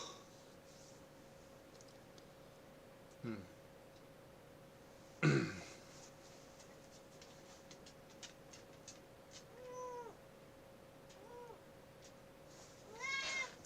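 Domestic cat meowing a few times beside a streamer reading aloud, short faint calls with rising and falling pitch spaced apart over a steady low hum, with occasional soft clicks and a brief thump between them.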